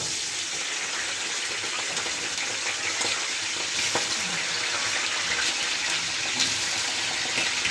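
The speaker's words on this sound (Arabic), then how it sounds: "ننزل بقى بالبطاطس بتاعتنا اللي احنا عاملينها مكعبات اهي بتاعت المسقعه." Diced potatoes for moussaka frying in a pan, a loud continuous hiss and crackle of hot oil that holds steady throughout, with faint occasional stirring clicks and no talking.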